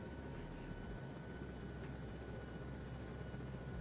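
Video-game helicopter spooling up to lift off, a steady, dense rotor and engine roar with a low throb, continuous and unbroken, with no speech.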